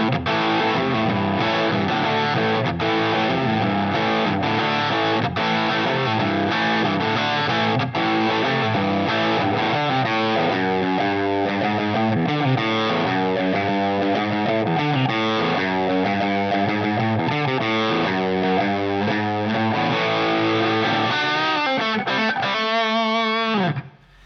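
An Epiphone Les Paul Special electric guitar plays through heavy distortion, a loud, dense run of riffs and sustained chords that continues without pause and then cuts off at the end.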